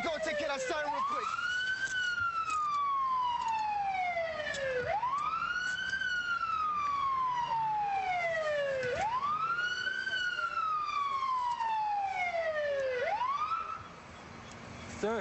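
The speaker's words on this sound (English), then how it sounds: "I'm gonna go take care of that siren real quick." A police car siren wails in repeated rising-and-falling cycles, loud and steady for most of the stretch before cutting down near the end, heard at a city street scene.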